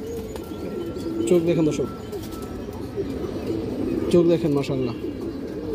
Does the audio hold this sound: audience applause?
no